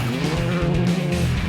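A Skoda Fabia R5 rally car drives hard on a rally stage in Ndola, Zambia, with a loud, close engine roar and tyre noise running continuously through the whole stretch.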